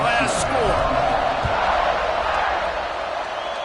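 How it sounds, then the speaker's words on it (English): Dense crowd buzz fills a college football stadium during an Irish vs Syracuse game, a steady roar of many voices with faint cheers and broadcast-style talk woven through. "this crowd is buzzing after that last score"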